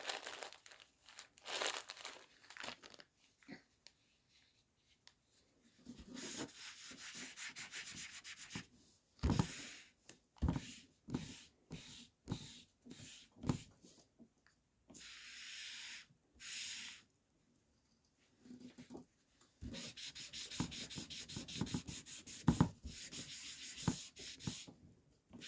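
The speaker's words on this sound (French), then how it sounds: "Alors, je vais gommer là où il faut." An eraser rubs back and forth on paper in close, dry bursts of scrubbing, some short and some sustained, separated by quiet pauses, with light paper rustling and faint breathing.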